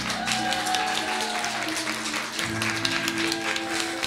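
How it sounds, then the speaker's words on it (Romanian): A small audience claps after a children's singing performance, a steady patter of hands with music or tonal sounds lingering beneath, fairly close. "Haideți o aplaudăm!"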